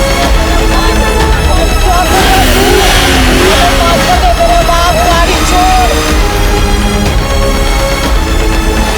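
Car engine revving loudly and continuously as the clutch is let out, a strained, wavering drone up close, with voices talking over it.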